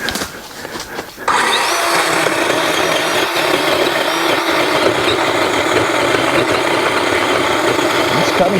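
A Dewalt battery-powered pole saw cuts through a tree branch, a loud continuous motor whine and chain rasp that starts abruptly and holds steady to the end.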